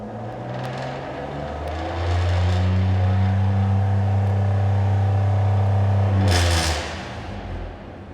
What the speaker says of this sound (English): So let's rev it up to the max RPM it's going to let me.